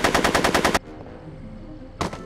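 Rapid automatic gunfire in the Back to the Future video game: a loud sustained burst of shots, a short pause, then a second burst starting.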